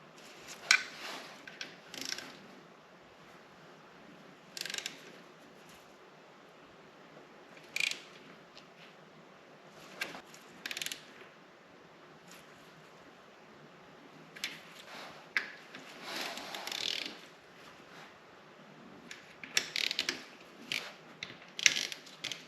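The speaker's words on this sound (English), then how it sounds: "we're going to go ahead and torque these all down to 12 Newton meters" Oil pan bolts being torqued down on a Yamaha FZ engine: faint, scattered bursts of ratcheting clicks and metallic tool noise, spaced irregularly over a quiet background.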